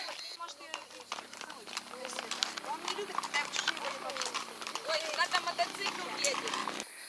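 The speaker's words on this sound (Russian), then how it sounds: "Миланина, вон лошадь идет." Horse hooves clip-clop at a walking pace on a steep, slippery slope, a steady series of soft knocks heard beneath continuous nearby conversation.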